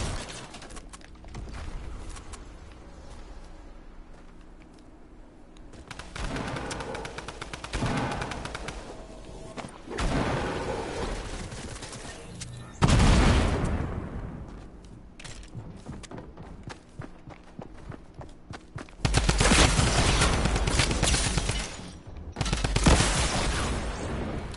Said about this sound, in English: I hear sniper shots